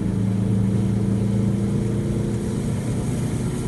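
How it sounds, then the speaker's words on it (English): A Subaru EA82 turbo car accelerates from 40 to 110 km/h, its engine giving a loud, steady droning hum with strong low tones, heard close from inside the car. "Now we're accelerating from 40 up to 110"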